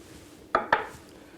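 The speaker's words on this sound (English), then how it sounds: "now we're going to butter both sides of the bread" A knife scrapes butter across toasted bread in a kitchen, two quick crisp scraping strokes close by, separated by a short pause, in an otherwise quiet room.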